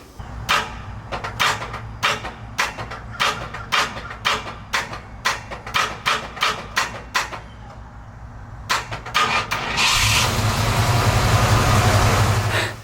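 An early Ford Bronco's faulty starter clicks over again and again in sharp, evenly spaced bursts, close up, then finally cranks with a sustained, louder churning roar near the end.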